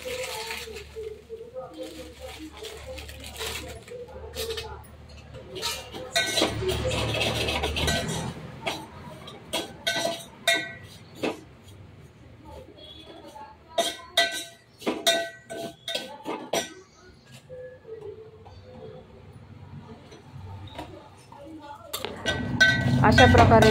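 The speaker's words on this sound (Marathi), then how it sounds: "अशा प्रकारे साजूक तूप घालून मी रवा व शेवया थोडे भाजून घेतले।" Semolina and fine vermicelli roasting in homemade ghee in a pan for kheer, with grated fresh coconut added, giving soft scraping and clinking of a spoon against the pan in irregular bursts, close by, with speech over it.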